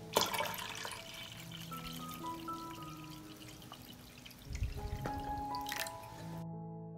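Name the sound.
water pouring into a pot with jars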